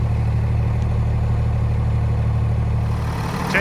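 An 8.9 liter i6 Cummins diesel in a Freightliner truck idles with a constant deep hum, steady and close, fading slightly at the very end.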